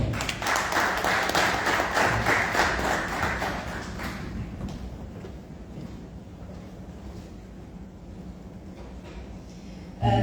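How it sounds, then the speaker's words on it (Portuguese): Applause rings out at a political book presentation for the ANAMOLA movement in Mozambique, loud and dense at first, then thinning into a lighter, scattered patter with thumps and shuffling noise. "Uma força de palmas, por favor"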